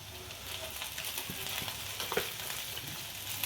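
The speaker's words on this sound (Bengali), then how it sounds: "যেমন দোকানে বিক্রি করে 2 চামচে নাড়াচাড়া করে, আমি তেমনভাবে নাড়াচাড়া করছি।" Chowmein with capsicum, onion, cabbage and carrot sizzles in a pan while two spoons toss it, making close frying crackle broken by repeated scraping clinks.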